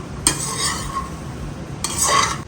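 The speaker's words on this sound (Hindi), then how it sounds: "तो यहाँ पे भून रहे हैं मखाने।" A spoon stirs makhana (fox nuts) roasting in a pan, with two sharp scraping sweeps against the metal over a soft, continuous background of dry nuts shifting, close and fairly loud.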